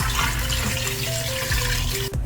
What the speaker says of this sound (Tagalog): Lagyan din natin ng 1 mangkok na tubig.